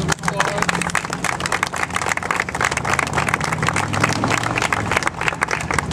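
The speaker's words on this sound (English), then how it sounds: "Let's give Mary a round of applause." A crowd at a street dedication ceremony on Seneca Street in Buffalo, NY applauds steadily for a guest. The dense clapping is sustained and fairly loud, with faint traffic rumble beneath it.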